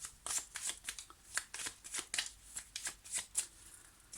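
Tarot cards are shuffled by hand in a rapid, irregular series of crisp riffling and flicking bursts, close and fairly quiet, with no talk.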